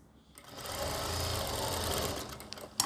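Sewing machine stitching the lining of a kameez sleeve, a steady close motor whir with rapid needle chatter lasting about two seconds before tapering off.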